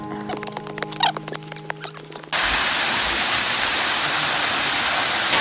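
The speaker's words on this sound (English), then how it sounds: "We came here just for this waterfall." Russian Gulch State Park waterfall on the Mendocino coast: after a few seconds of quieter outdoor sound, a loud, steady broadband rush of falling water abruptly fills the rest, close and continuous.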